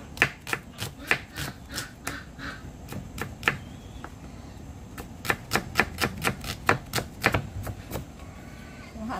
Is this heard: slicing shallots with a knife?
yes